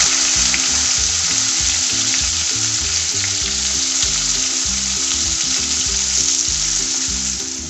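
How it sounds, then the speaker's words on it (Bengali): Chopped onion hitting hot oil with toasted cumin seeds in a pan, a loud, steady, close sizzle and crackle running throughout with light stirring and no voices. "আমি এখন এর মধ্যে পেঁয়াজ কুচিটা দিয়ে দিচ্ছি।"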